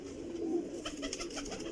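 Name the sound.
pigeon cooing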